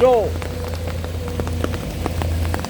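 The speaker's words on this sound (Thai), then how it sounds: "ฝนตกแรงครับ" Heavy rain drums on a Sany SY200C and a Komatsu PC210-10MO excavator working in the open, a steady close patter with scattered drops and a low engine hum underneath.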